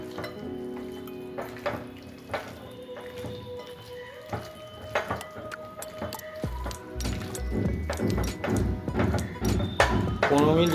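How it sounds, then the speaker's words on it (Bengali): Chicken being mixed by hand with yogurt marinade, wet squelching and sticky squishing bursts that grow busier toward the end, with a voice speaking underneath. "এটাকে দিয়ে এবার একটু আমি এটা ভালো করে মাখিয়ে নেবো, ম্যারিনেশন করে নেবো।"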